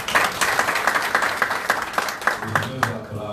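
Audience at a business association lecture in São Paulo applauds after a speech, a steady patter of many hands clapping with sharp individual claps, moderately loud and continuous throughout.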